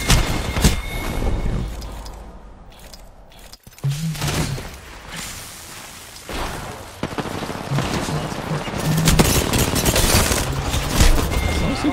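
Video game shooter gunfire in a busy online match: loud bursts of rapid shots and booms rolling through the fight, near and dense, with brief gaps and steady in-game noise underneath.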